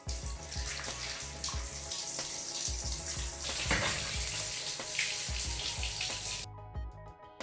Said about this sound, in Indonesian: cuci daun sirih dengan air mengalir hingga benar-benar bersih